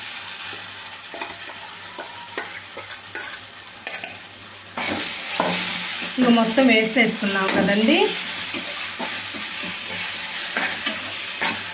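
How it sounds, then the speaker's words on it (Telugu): Raw mango paste for a homemade pickle is stirred and fried in a pan, with soft scraping stirs first, then a louder burst of sizzling and bubbling as the paste cooks; someone speaks briefly early on. "ఇదిగోండి చూడండి, ఇట్లా బాగా కలదిప్పుకోవాలండి."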